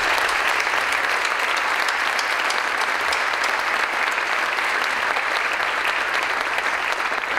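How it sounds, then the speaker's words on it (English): Audience applause at a university athletic field groundbreaking ceremony, a dense, even wash of many hands clapping continuously, loud and close, without pauses. "Will you join me in a round of applause?"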